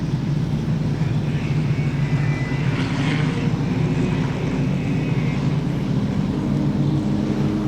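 Production sedan race cars restart at Moora Speedway, a speedway track, their engines making a loud continuous roar that swells briefly around the middle and stays dense and heavy throughout.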